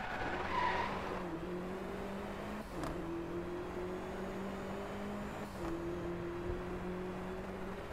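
A car drifts in the racing game DriveClub, its engine droning steadily with two brief dips at gear shifts under a continuous hiss of tire squeal.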